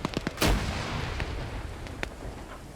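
Grenades exploding during a competitive first-person shooter match: a loud deep blast near the start following a few sharp pops, then scattered cracks of distant gunfire over a rumbling, fading tail.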